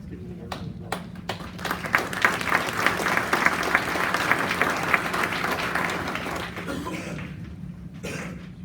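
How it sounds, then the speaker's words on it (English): An audience at an awards ceremony starts with a few scattered claps, swells into full, steady applause, then thins out to a last few claps near the end, with faint voices underneath. "Let's give them a round of applause."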